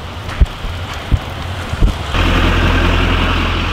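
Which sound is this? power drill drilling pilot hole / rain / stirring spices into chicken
rain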